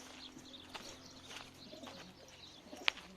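Soft pigeon coos murmur at a distance over a quiet, steady background, with one sharp brief click or chirp near the end.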